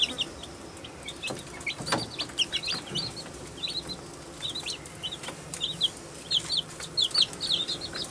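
Young chicks in an incubator, one of them acting sickly, give repeated high, thin peeps and squalls in scattered bursts, with occasional soft rustling and wing flutters nearby.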